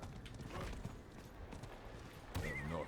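Horse hooves clopping and a whinny in the video game Diablo IV, steady galloping beats with a sharper burst near the end, layered under game ambience.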